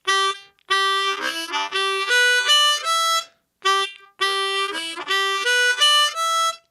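Blues harmonica loop climbing from the 2 draw through 3 and 4 draw to the 5 blow, a clear reedy phrase of stepped notes played twice with a short gap between, close and solo.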